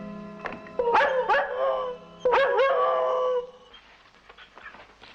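A dog howls in two long, loud, wavering bursts close by, each opening with sharp yelps, then fades into quiet background noise.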